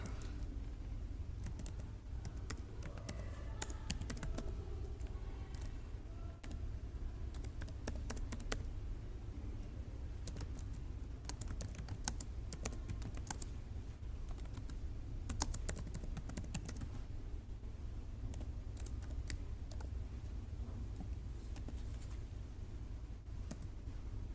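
Fingers type on a computer keyboard in a steady patter of soft, irregular key clicks that continues throughout, close and moderately quiet, with no talking.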